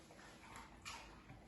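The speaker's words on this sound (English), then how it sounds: "This one just likes to woof" A dog gives a brief, faint woof, a single soft vocal burst against a quiet indoor background.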